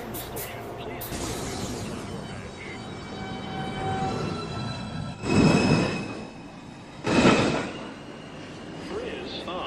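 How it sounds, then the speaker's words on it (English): An NYC Subway downtown local 1 train pulls into Rose Street station, a steady rumble under automated platform announcements, with two louder surges of wheel noise and squeal partway through. "Downtown Local 1 train approaching the station."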